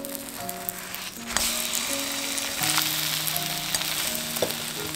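Bread slices for a one-pan egg toast fry in a pan just after being flipped, giving a steady close sizzle with brief stirring clatter and a faint melody underneath.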